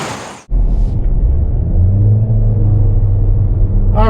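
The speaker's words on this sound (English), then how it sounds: "we're heading down the road in this brand new 25 Equinox" A 2025 Chevrolet Equinox LT front-wheel-drive SUV pulls away on a road, its engine rumble and road noise building steadily and loudly after a brief thump, with no talk.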